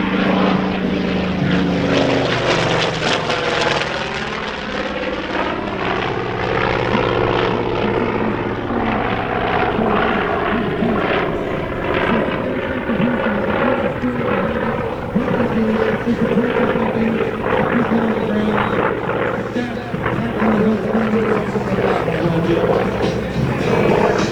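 A-1 Skyraider "Bad News" propeller warplane flies a close air support demonstration, its big radial engine roaring loud and continuous with a swelling pass, dense propeller drone and rumble throughout.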